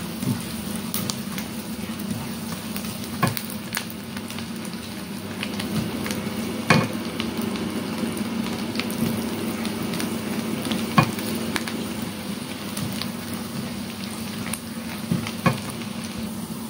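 Garlic fries in melted butter in a pan, giving a continuous close sizzle with recurring scrapes and clacks of stirring and no voices.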